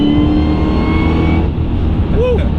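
A powerful American car's engine revs hard and pulls through an acceleration, loud and close, with a rising tone toward the end and a voice briefly audible over the engine.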